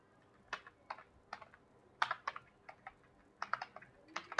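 Keys clatter on a computer keyboard while a form is typed in MS Word, coming in short irregular bursts of quick clicks with brief pauses between, close and fairly quiet.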